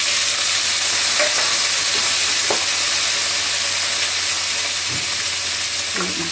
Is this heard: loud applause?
no